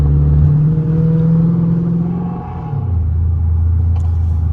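A Ford Mustang engine revs loudly and close at a car meet, a deep held rev that drops and settles into a lower throaty idle rumble, with no voices.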